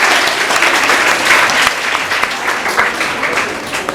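Loud, dense applause from an audience at a students' Independence Day (15 August) celebration, steady clapping throughout with some unevenness near the end.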